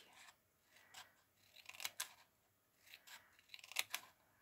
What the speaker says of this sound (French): Est-ce que j'arrive avec le petit ciseau? Comme ça, je vais couper.